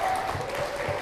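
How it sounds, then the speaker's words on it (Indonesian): An audience at a university law debate semifinal claps for a speaker, a brief, dense, steady burst of applause filling the room. "kita berikan tepuk tangan untuk pembicara kedua dari tim pro"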